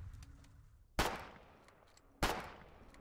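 Two heavy gunshots boom in the Foxhole war game, each a sharp close blast with a trailing rumble, spaced over a second apart against a quiet background.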